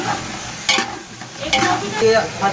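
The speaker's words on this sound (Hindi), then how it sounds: "इन सब सब्जियों की हम अच्छी तरह से भुनाई करेंगे।" Vegetables sizzle and get stirred in a hot pan for chicken and vegetable pulao, close sputtering frying with a few louder scraping stirs.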